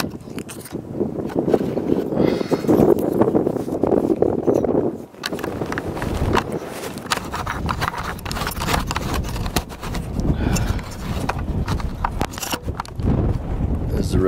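Outdoor wind buffets a camera microphone beside a highway, making a low, continuous rumbling roar that surges and dips throughout, with people talking over it.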